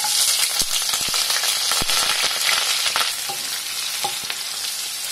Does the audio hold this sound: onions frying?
yes